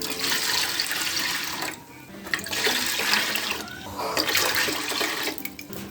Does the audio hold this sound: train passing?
no